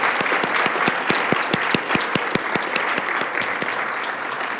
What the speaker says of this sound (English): We'll just have one more round of applause.